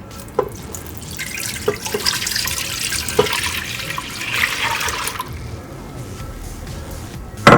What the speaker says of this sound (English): I'm pouring 5 cups of whole milk